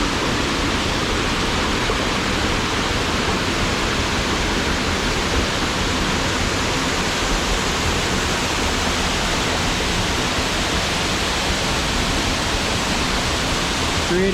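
Lower falls of a waterfall on Makamakaole Stream roar as a constant, dense wash of white water, steady and close throughout with no breaks.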